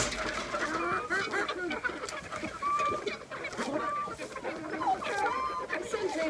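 Backyard chickens cluck and call steadily at close range, several birds overlapping with short rising squawks while their water is put out, loud and continuous without pause.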